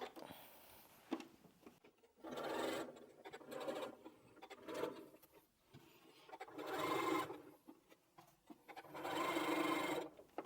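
A sewing machine chain-pieces scrappy quilt binding strips, running in three or four steady whirring bursts with short pauses between them, close and alone.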